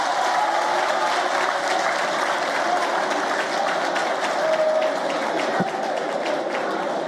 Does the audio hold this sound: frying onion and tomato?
no